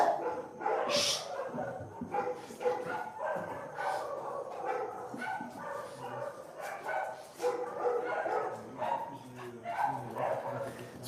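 Dogs bark repeatedly outdoors in a Rio de Janeiro neighborhood, a mix of sharp barks and yips at middle distance, with a voice talking over them throughout.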